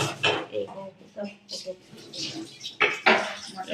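Vegetables such as tomatoes are cut in a home kitchen, with short clattering knife and utensil sounds mixed in among people talking.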